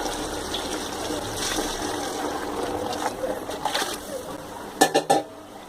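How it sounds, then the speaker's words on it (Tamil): Water pours steadily into a pot for cooking rice for biryani, a soft, rushing splash, followed by a few sharp metallic clanks of cookware at the end. "நாலு டம்ளர் அரிசிக்கு எட்டு டம்ளர் தண்ணி ஊற்றி வச்சுருக்கேன்"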